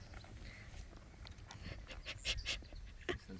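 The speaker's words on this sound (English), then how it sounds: "Dog." Dog panting near a barn, quick soft breaths with a few faint whimpers, fairly quiet and close against low background noise.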